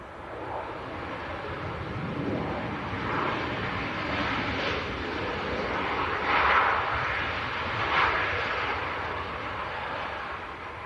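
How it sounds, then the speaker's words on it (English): An airliner touches down at Leeds Bradford Airport, heard from some distance as a steady broad jet roar with wind buffeting the microphone, swelling slightly mid-landing and holding level throughout. "Nice smooth touchdown."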